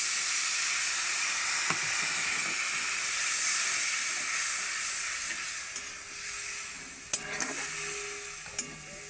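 Soaked dried raw mango slices go into a hot pan of oil with turmeric and chilli powder for a fish sour curry, raising a steady loud sizzle with a few sharp clinks from the pan near the end.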